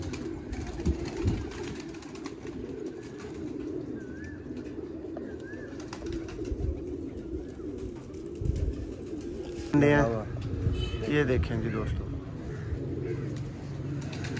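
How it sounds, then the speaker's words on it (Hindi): Pigeons coo at a loft, low murmuring calls continuing in the background while someone talks over them, with a brief flutter-like burst near the end. "कम भाइयों को इस तरह के कबूतर दोस्तों देखने को मिलते हैं बार बार"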